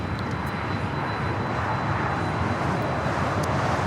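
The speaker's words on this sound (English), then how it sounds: "That was a Embraer Legacy 500." An Embraer Legacy 500 business jet at LAX passes with a steady, fairly loud broadband engine roar, unbroken and without voices for the few seconds heard.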